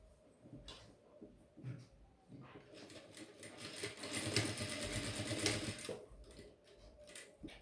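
A sewing machine stitches a boxer brief in a tailoring class, its motor whirring in bursts that build to a sustained, louder run in the middle before easing off, with soft handling noises between stretches.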